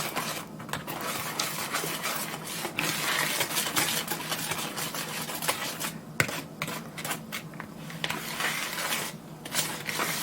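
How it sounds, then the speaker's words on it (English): A spoon stirs thick zucchini bread batter with flour in a bowl, making close, uneven scraping and slapping strokes in an irregular rhythm with brief pauses, no voices. "Give it a stir."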